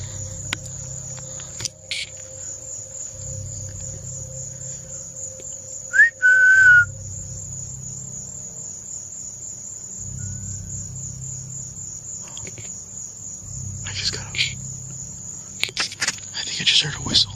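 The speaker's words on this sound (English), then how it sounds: "just heard a whistle." On a night camping trip, crickets chirr in a steady, continuous drone. Partway through, a single short whistle sounds once at a distance, with faint rustling and knocks near the end.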